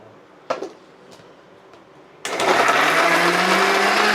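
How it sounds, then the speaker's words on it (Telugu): A few small knocks and clatters come first, then a kitchen mixer grinder roars loudly into action, grinding dried red chillies and peanuts for chutney with a harsh, steady whir that holds to the end. "ఇదైతే సింపుల్గా అట్ట దంచే మిక్సీలో కొట్టేసినాం అంటే అయిపోతుంది"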